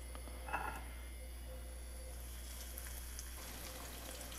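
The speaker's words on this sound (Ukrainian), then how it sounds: "Тепер беремо відбивну і кладу відбивну на сковорідку." Schnitzel cutlet frying in a hot pan, a steady low sizzle with a brief crackling burst as the meat goes in, then continuous even frying.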